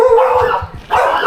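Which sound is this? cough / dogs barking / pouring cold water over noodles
dogs barking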